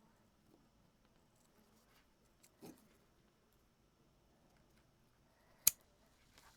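Scissors trim the excess fabric flush along a zipper edge on a sewing pouch, giving a quiet crunchy snip around the middle and one sharp close click later, with faint handling rustles in between in a quiet room.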